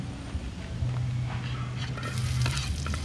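Garlic and onion sautéing in cooking oil in a pan as the base for spicy crab with banana blossom: a close, steady sizzle with spatula stirring and a low hum underneath.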